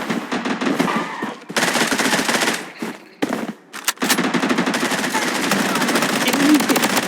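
Video game battle gunfire: loud, rapid automatic bursts close by, with short gaps between volleys and in-game voice callouts heard among the shots.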